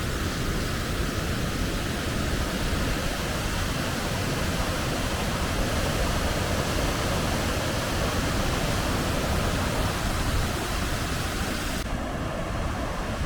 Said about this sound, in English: Nothing quite like listening to the sound of tinkling water.